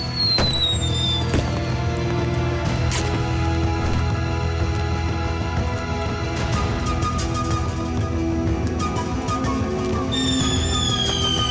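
Fireworks and firecrackers go off in an animated cartoon, a dense continuous barrage of crackling pops and bangs layered over a sustained musical score, with high whistling tones near the end and no talking.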